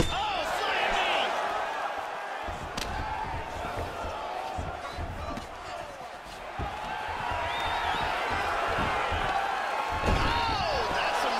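In UFC 3, a fighter is body-slammed to the mat: sharp thudding impacts hit over a constant crowd roar, with commentary talking throughout.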